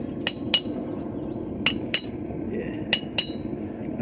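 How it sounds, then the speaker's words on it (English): Hammer blows ring out on a forged steel hairpin at the anvil, six sharp metallic strikes in three closely spaced pairs over a steady low background hum. "It'll look better once I hammer it one more time."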